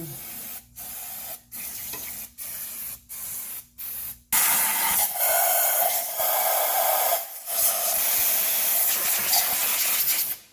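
Compressed air blasting residue off the coil connectors of a 2003 Toyota Corolla engine, a series of short sharp hissing bursts followed by a long continuous loud blast, close by.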